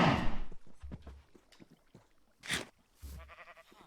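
Sheep in a farming video game bleat in two distinct calls, a loud one midway and a shorter one near the end, separated by quieter game noises and clicks.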